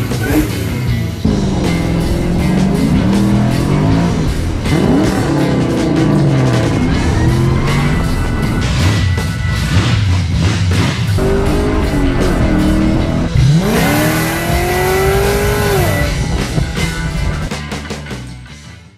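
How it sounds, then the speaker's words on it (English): A 1969 Camaro Yenko recreation doing a burnout, its engine roaring loud and continuous with rising and falling revs throughout, tyres screeching under the engine near the end. "She does burnouts."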